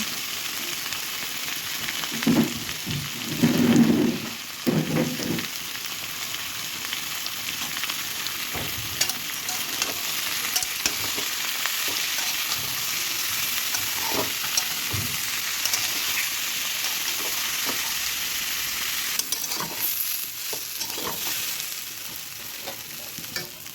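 Pieces of raw jackfruit fry in a pan with a steady, close sizzle and hiss throughout, with a few louder bursts of stirring near the start.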